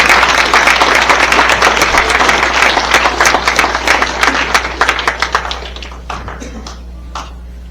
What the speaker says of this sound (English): give everybody from the sponsors a round of applause